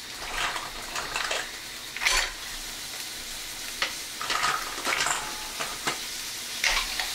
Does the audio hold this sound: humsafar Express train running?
no